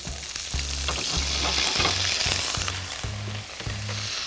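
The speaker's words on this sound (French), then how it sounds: "Et là, je vais arroser le poisson dans la poêle." Sea bass fillet fries in a pan as it is basted with lemon, a loud continuous close sizzle broken by repeated spoon scrapes and clatters against the pan in a steady rhythm.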